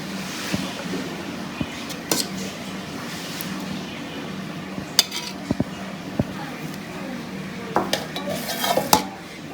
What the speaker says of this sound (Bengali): এই যে খিচুড়ি রান্না করছি সকালের জন্য